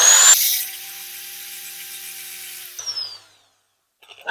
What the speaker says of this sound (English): Probably need a bigger drill. Right, got a bit of drill,